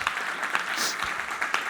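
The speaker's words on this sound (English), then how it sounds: "Let's give her a round of applause." A live audience gives a short round of applause for a guest speaker who has flown in from the US, heard faintly as a steady wash of clapping.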